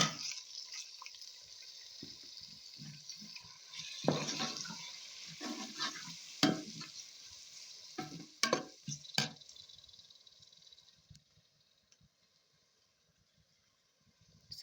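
Garlic, onions, spices, tomatoes and green chilies fry in a pan with soft sizzling under intermittent clatter and stirring knocks, a few sharp utensil hits, then the sound fades to near silence.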